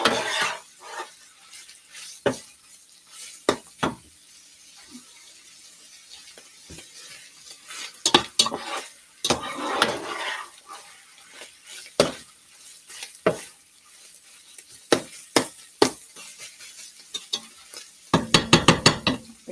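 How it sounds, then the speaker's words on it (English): Hamburger meat and onions brown in a pan, a soft background sizzle punctuated by intermittent spatula scrapes and knocks, ending in a quick burst of rapid stirring taps. "Almost done browning the hamburger meat with the onions."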